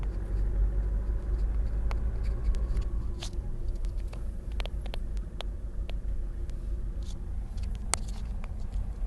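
A car rolls slowly through a residential property toward its back gate, a steady low engine rumble and road noise throughout with occasional small clicks and taps, close and continuous.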